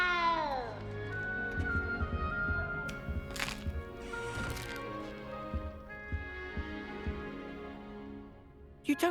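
A frightened cat meows in the video game Hogwarts Legacy, with several plaintive cries rising over a steady game soundscape and music, while characters talk around it.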